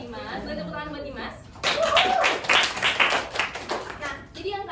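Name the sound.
classroom children clapping for Dimas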